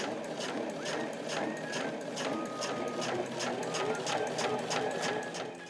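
A sewing machine stitches through leather on a tablet case, its needle hammering in a fast, even rhythm close by, with a faint thin squeak riding over the mechanical chatter.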